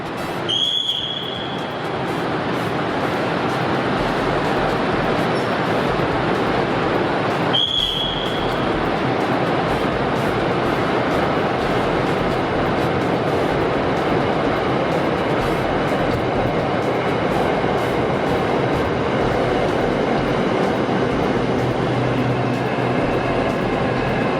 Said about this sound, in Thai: อันนี้รถไฟที่ออกไปนะครับก็กำลังกลับเข้ามา